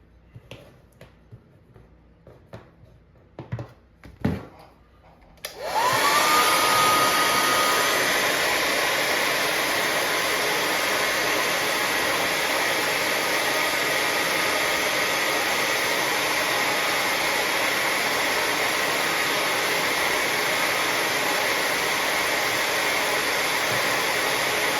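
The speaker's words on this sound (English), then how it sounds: "Heat up the legs, throw it back on Cody" A few light clicks and handling taps come first, then a hot air tool switches on and blows a loud, constant rushing hiss while heating an action figure's legs, running steadily to the end.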